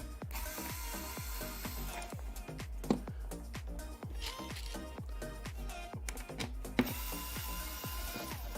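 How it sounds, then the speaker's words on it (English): Screws being removed from the front of a Lian Li O11 Vision PC case with a ratcheting screwdriver, a rapid run of close clicking ratchet turns in a steady rhythm. "And then you remove those 4 screws."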